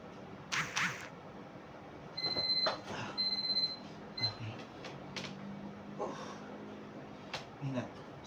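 Workout interval timer beeping during a plank circuit in an exercise class, with short electronic tones recurring across the clip under background voices and room noise.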